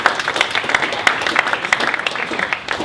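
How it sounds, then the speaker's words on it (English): An audience claps for a judge at a holiday pitch competition, a dense, steady burst of applause throughout, fairly loud and close, with no talking over it. "Round of applause, please, to one of our judges"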